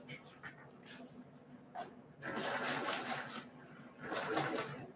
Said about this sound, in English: I'm going to sew a quarter of an inch on either side of this little strip right here.